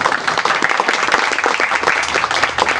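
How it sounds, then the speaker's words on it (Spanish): Applause from an event audience, a dense, steady patter of many hands clapping close and loud throughout, with no voices standing out. "un aplauso a todos"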